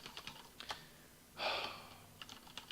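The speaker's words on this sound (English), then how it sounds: "sorry for my typing skills." Quick bursts of keystrokes on a computer keyboard, close and fairly quiet, with a denser flurry of typing in the middle and scattered single taps before and after.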